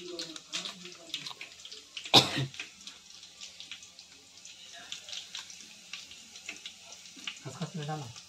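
Garlic paste goes into sizzling masala in a pan on a home stove, a steady frying hiss with a sharp burst as the paste lands and some stirring and clatter, while people talk faintly nearby.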